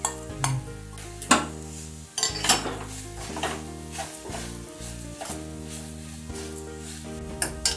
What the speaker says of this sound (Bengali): খুব সামান্য ঘি দিলাম দিয়ে গাজরটা একটু ঘিয়ের মধ্যে নেড়ে নিচ্ছি